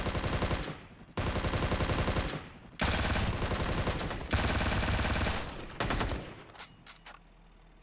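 Rapid automatic AK rifle bursts in the shooter game Ring of Elysium, several loud sustained volleys separated by short pauses, then a few scattered single shots.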